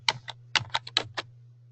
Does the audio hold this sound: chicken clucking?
no